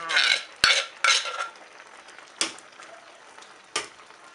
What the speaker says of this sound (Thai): ใส่แล้วก็รีบคนนะจ๊ะ